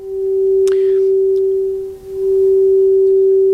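A frosted crystal harmonic bowl struck with a silicone tube striker rings with one steady, pure sustained tone, loud and close, with a brief soft tap and swish near the start.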